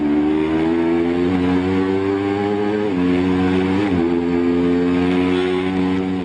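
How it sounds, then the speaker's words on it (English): Racing motorcycle at the Isle of Man TT, recorded onboard: a loud, close engine howl holds high revs with brief dips and rises between gears, under constant wind rush. "we mounted a camera on Miller's bike during one of the races"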